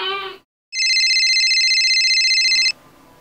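A phone's text message notification tone sounds once, a sustained bright electronic chime lasting about two seconds after a brief snippet of voice, then fades into quiet room noise.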